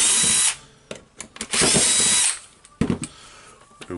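A power screwdriver whirs in short bursts while backing out screws on a Makita HR2811FT rotary hammer drill during repair, loud and close, with pauses and light handling clicks between runs.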